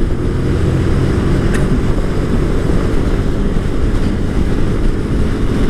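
Loud, steady engine drone with wind rush from a 2019 Honda Twister 250 motorcycle ridden at speed. It holds a constant high rev without gear changes for several seconds.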